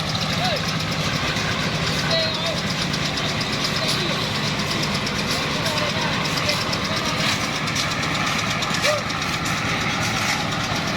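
Concrete casting machinery engine runs at a steady idle-like rumble with continuous knocking texture, close and constant throughout, outdoors at a floor-pouring job.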